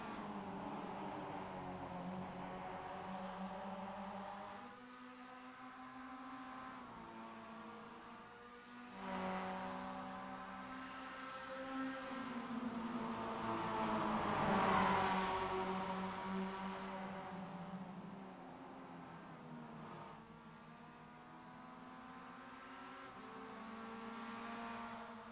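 Race cars in an MX-5 Cup sim racing game, with several engines droning and revving in overlapping rising and falling pitches. The sound swells toward a louder peak midway, then eases, with no talk.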